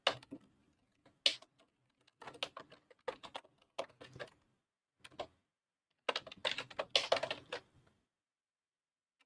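Typing on a computer keyboard: irregular bursts of crisp, close key clicks separated by short pauses, quiet with no talk.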